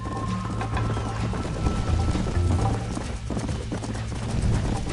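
A horse gallops in Red Dead, its hooves pounding in quick clip-clop rhythm over dense game ambience and music, fairly loud and continuous, with no talk.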